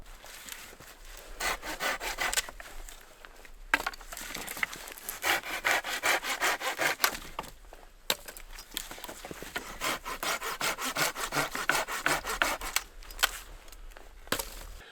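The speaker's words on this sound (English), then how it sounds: "I'm just processing this firewood" Dry, resinous pine firewood is sawn by hand in steady rasping back-and-forth strokes, close and continuous, with short pauses between runs of cutting.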